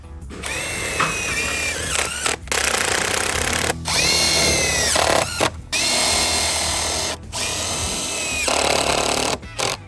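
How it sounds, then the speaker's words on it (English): A power drill drives screws into the hinges of a vinyl fence gate, whining in several long, loud bursts separated by short pauses. "Now we have 2 more screws on the inside for each hinge."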